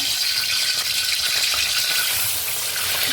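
Ground masala paste with tomato fries in oil for a spicy village-style chicken curry, a dense, loud, continuous crackling sizzle, close and steady throughout.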